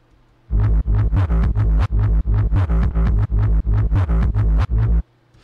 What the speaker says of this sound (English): So this is with the new erosion effect, and you can see what happens here